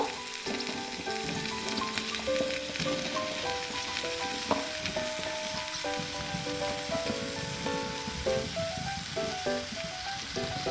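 Carrots and radish hitting hot oil in a frying pan for a Bengali tangra fish chorchori, a steady loud sizzle and crackle, with soft music playing alongside and no talking.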